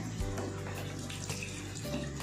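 Water runs from a tap as a small amount is collected for cooking a birthday lunch, a steady close rushing flow that continues throughout with no talking.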